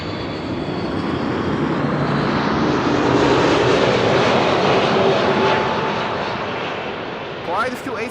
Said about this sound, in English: The first 747 already landed, and this is KLM, flight 676.